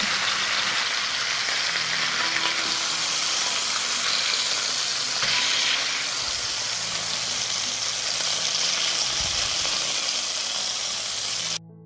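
Leeks frying in leftover meat fat in a pan, a steady, loud sizzle and hiss that continues without a break for around twelve seconds, with no talking.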